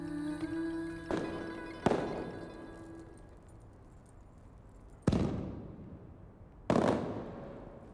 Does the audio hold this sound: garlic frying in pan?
no